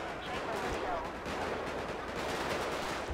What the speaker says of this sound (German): Oh ja, hier wird richtig geschossen.